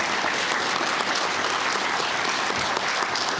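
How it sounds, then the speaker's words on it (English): A lecture audience gives a full, continuous round of applause for two speakers, the dense clapping holding steady and loud from start to finish. "a big round of applause for our 2 speakers tonight"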